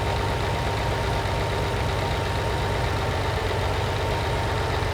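A restored Lamborghini 350 GT idles steadily in a continuous, loud, even engine drone with no breaks.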